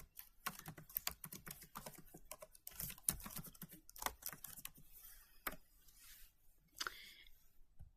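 Rapid typing on a computer keyboard while selecting a lettering tool for a sketch-stitch faux appliqué design, with irregular bursts of clicking keystrokes close by, alone without speech.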